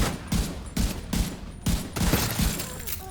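Heavy enemies firing machine guns in The Division 2, loud rapid bursts of automatic gunfire in quick repeated volleys, with no talk over them.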